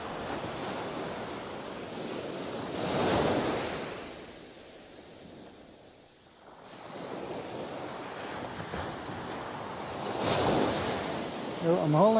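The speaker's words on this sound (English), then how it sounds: "the waves are starting to come up past the tripod now" Ocean waves washing up on a beach during shore fishing, broad hissing surges that build and recede in slow cycles, with a lull in the middle and wind buffeting the microphone.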